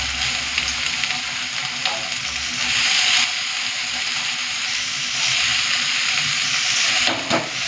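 Bitter gourd and potato hitting a pan of hot oil with already-fried chopped onion, giving a loud, steady, continuous sizzle with brief stirring swells and no talking.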